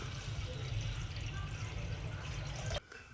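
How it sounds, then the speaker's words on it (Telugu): Half a litre of water poured into a bowl for batter, a steady close gush and splash that stops abruptly near the end. "ఒక గిన్నె పెట్టుకొని అర లీటర్ నీళ్లు పోసుకోవాలి ఫస్ట్"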